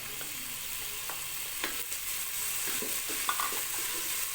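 Finely chopped green chillies are stirred into lightly browned onions frying in a pan: a constant oily sizzle with scattered scraping and clacking spoon strokes, close and fairly loud, no voices.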